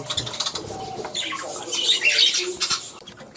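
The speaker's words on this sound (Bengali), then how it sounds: "তো দেখুন বন্ধুরা, পাখিগুলো খাবারটা খাচ্ছে" Pet budgies feeding on winter food, giving shrill squawks and chirps with brief rustling and wing flutters, close and lively over a few seconds, no voices.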